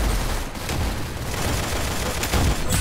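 Dense burst of gunfire in the Roblox shooter Arsenal, a loud continuous fusillade of overlapping shots with booming low end filling the whole moment.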